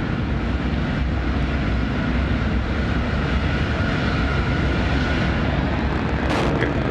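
Antares rocket first-stage engines during the NG-18 launch carrying the S.S. Sally Ride Cygnus, a loud, unbroken crackling roar that holds steady throughout.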